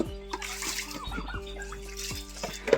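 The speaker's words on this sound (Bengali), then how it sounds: "দেখেন আমাদের পাত্র ধোয়া হচ্ছে এখানে ওষুধ পানি দেওয়ার জন্য" Water splashes and swishes as a container is washed out before it is filled with medicated drinking water for brooding turkey chicks, several short sloshes over a couple of seconds with a low hum behind.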